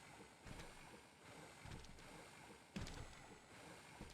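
Faint, low rumble of a boat motor chugging along in the video game Final Fantasy XIV, with periodic surges as it revs.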